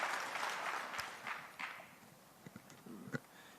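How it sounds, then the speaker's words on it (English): Audience applause welcoming a speaker onto the stage at a technical talk, a soft, broad patter of clapping that peaks early and thins out, with a few sharper isolated claps near the end. "Let's give Anish a big round of applause and welcome him to the stage."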